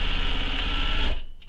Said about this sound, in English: Again, stitching right beside it.